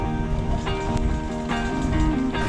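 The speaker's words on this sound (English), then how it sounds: "the wind is pretty strong" Strong wind at sea aboard a sailboat makes a steady, loud broadband roar with water rushing against the hull, continuous throughout with no clear breaks.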